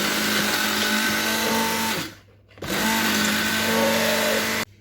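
A hand blender whisking milk and butter whirs loudly and steadily, stops briefly for a moment, then resumes at full power before cutting off abruptly.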